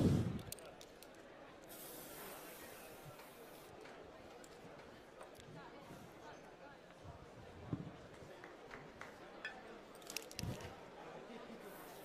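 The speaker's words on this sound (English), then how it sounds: "to spray my glasses with one golden spray because it's give the drink a better look" Edible golden spray hisses in short bursts onto cocktail glasses at a bartending competition, a soft mid-level spray under a faint crowd murmur.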